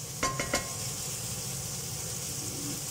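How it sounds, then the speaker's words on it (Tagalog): Onions and mushrooms sauté in a pan with a continuous low sizzle, opened by three quick utensil clinks against the pan; no one speaks. "Pilitan na natin yung sibuyas at saka mushroom"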